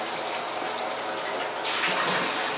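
Water runs steadily from a tap to rinse film during darkroom processing, a continuous hiss that grows slightly louder and brighter partway through.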